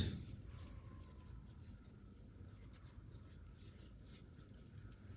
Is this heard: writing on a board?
yes